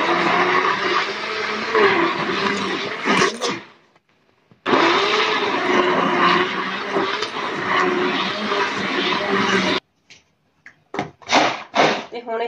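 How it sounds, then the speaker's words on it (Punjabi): A hand blender mashes bananas for a banana cold coffee, its motor whirring loudly in two long bursts with a short pause between them, followed by a few sharp knocks and a brief clatter at the end. "ਕੇਲੇ ਨਾ ਜਿਹੜੇ ਆਪਾਂ ਚੰਗੀ ਤਰ੍ਹਾਂ ਇਹਨਾਂ ਨੂੰ ਮੈਸ਼ ਕਰ ਲਾਂਗੇ ਹੈਂਡ ਬਲੈਂਡਰ ਨਾਲ"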